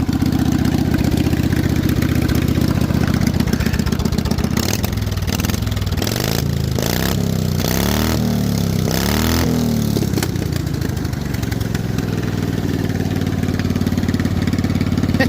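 Snow mower engine idling with modified exhaust pipes, a steady loud low rumble with uneven pulsing as the pipes change the tone midway, running alone without talk.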